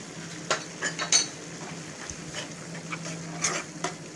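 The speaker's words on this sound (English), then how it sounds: "And we give it a bit of a stir." A spoon scrapes and clinks against a pan as tomatoes, onions, spices and chopped green chilies are stirred together, giving several short, close strokes over a soft, low cooking hiss.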